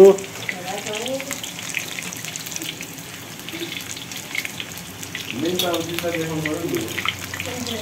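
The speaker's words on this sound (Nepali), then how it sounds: "चिकन मोमो फ्राई भइरहेको छ है साथीहरू।" Chicken momos frying in hot oil make a steady, fairly loud bubbling sizzle, with a person talking over it at the start and again near the end.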